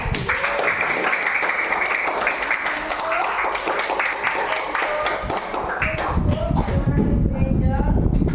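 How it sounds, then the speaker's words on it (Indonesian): Pupils in a Christian religious education class clap their hands in a dense, steady round of applause with voices mixed in, swelling louder toward the end. "Oke, tepuk tangan."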